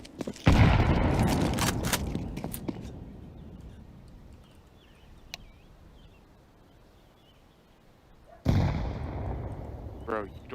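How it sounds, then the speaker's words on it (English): A grenade explodes in a video game with a loud booming burst that fades into a quieter stretch, then another sharp blast near the end, with voices talking alongside. "Throwing a grenade."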